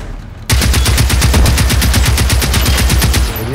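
Rapid automatic gunfire aimed at a reaper machine in Generation Zero, a steady loud burst of evenly spaced shots that starts abruptly and runs about three seconds before easing off.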